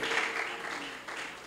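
A church congregation claps briefly as an offering of acclamation during Sunday prayer, a short burst of moderately faint applause in a hall.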